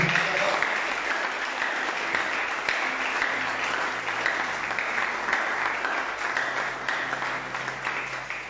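A church congregation at a French-speaking service breaks into sustained, dense applause that holds steady for several seconds, with faint low sustained tones underneath and no clear speech on top.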